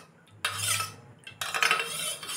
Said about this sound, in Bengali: জল দিয়ে সসটা আমি ভালো করে মিশিয়ে রাখব।